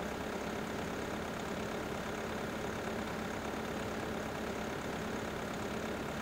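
Tractor engine in Farming Simulator 15 running steadily at idle-like revs, a constant low drone with broadband hiss, unbroken for the whole stretch and fairly quiet, with no talking.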